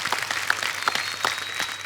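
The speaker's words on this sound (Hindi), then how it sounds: "इनके लिए एक बार ताली बजाइए, उनके टीम के लिए" A studio audience at a TV comedy show applauds, a steady patter of many hands with a few sharper claps standing out, continuous and fairly close for about two seconds.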